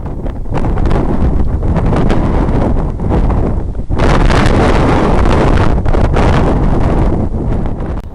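High wind buffeting the microphone during a badger hunt, loud roaring gusts that dip briefly before surging back harder and keep battering without letup.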